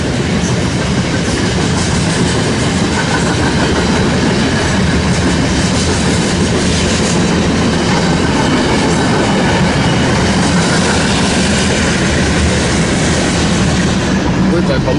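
A CN freight train picking up cars passes close by, a loud, unbroken roar of wheels and rail clatter for the full stretch, with occasional faint squeals.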